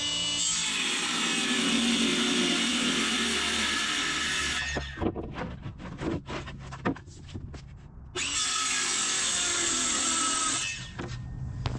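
A power saw cuts a board down to size for temporary seating in an off-road camper, loud steady whining runs broken by a stretch of rattly clatter, then another loud cutting run, no talk.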